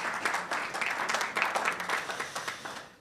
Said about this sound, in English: A round of applause for the Deputy Minister